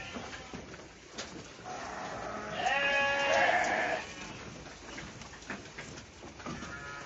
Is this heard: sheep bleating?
yes